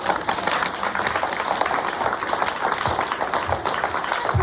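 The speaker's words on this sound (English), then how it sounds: "Give them a clap." School assembly audience clapping together, a dense, loud burst of applause that holds steady for a few seconds without talk over it.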